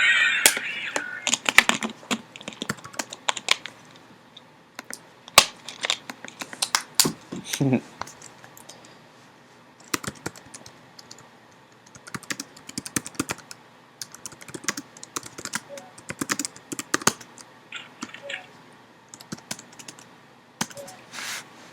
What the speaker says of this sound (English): I'm pretty harsh with my keyboard, I don't know if you guys can tell.